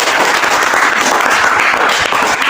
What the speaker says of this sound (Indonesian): kita tepuk tangan untuk Husnul